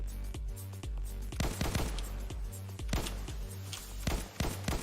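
Rapid enemy gunfire in a video game, dense bursts of sharp automatic shots repeating continuously and loud, with no talk over it.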